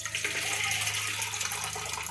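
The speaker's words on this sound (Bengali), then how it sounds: "এবার জল দিয়ে দেব।" Water poured from a tap into a pressure cooker over soaked, washed lentils, a steady close splashing stream that continues throughout with no talking.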